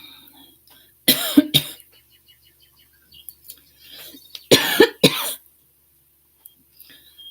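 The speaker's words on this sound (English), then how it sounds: "Why do I keep getting that same dry cough?" Two bursts of dry, hacking coughs, each a quick cluster of harsh hits, separated by quiet with faint movement noise between.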